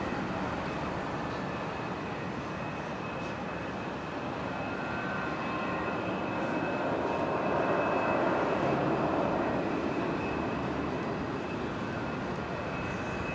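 Jet airliner rolling along the taxiway and across the runway at Brisbane Airport after arriving on runway 19 right, a steady broad engine roar with a faint whine that swells slightly midway and holds close and loud throughout.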